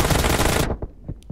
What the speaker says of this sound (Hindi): इतनी तो गोलियां मार रहा हूं इनको मैं।